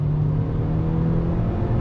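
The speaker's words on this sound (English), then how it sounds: "let me go ahead and get back on throttle again" A 2020 Honda Civic Coupe EX with a turbocharged engine and front-wheel drive pulls under throttle, giving a steady droning hum from inside the cabin, even and unbroken.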